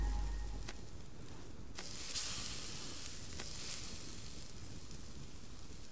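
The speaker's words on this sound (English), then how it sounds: "I love the noise from frying" Food frying in the survival game Subsistence, a soft continuous sizzle with faint crackles and a few brief clicks, quiet and even throughout.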